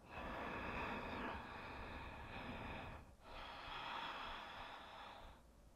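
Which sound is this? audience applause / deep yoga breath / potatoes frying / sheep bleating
deep yoga breath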